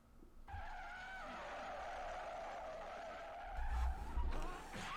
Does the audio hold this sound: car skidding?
yes